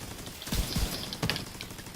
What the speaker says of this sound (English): we'll implement our turret right here